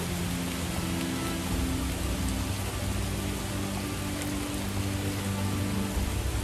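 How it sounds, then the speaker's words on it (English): Real rain falling outdoors as a steady, dense hiss that holds for the whole stretch, with a low hum running underneath and no voices. "This is real rain"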